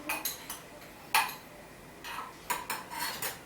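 A spoon stirs sugar into a cup of coffee, giving light metallic clinks and scrapes against the cup in short bursts, close and fairly quiet, with no talking.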